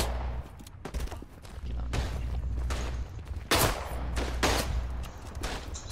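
Artillery and gunfire in the First World War shooter Verdun, a dense distant fusillade of rifle and machine-gun fire punctuated by heavier blasts and booming impacts, continuous and fairly loud with no talk.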